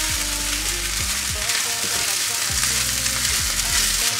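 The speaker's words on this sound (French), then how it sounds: "Hop, je mélange bien, je vous montre." Food frying and being stirred in a pan, a loud, continuous sizzle throughout with periodic scraping strokes, while music plays underneath.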